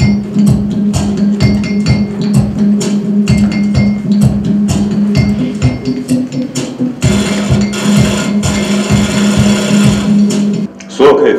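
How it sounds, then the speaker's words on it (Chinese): A song built from sampled sewing machine sounds, made from the machine's many sound-producing parts and presented at a museum exhibition, pulses in a steady mechanical rhythm of clacks and whirs, layered with musical tones. "所以我就是用缝纫机来，它上面有很多的部位可以发出声音，然后把它取样下来，做成一首歌"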